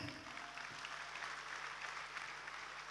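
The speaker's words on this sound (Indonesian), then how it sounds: "Sekali lagi tepuk tangannya." A seminar audience applauds, a brief, even wash of clapping that sounds somewhat distant and steady throughout.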